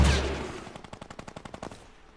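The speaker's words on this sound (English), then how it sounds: "I forgot I have a grenade launcher" A grenade launcher in Fortnite fires a rapid string of about a dozen evenly spaced shots after a heavy opening blast, fading slightly as the burst goes on, with no talk over it.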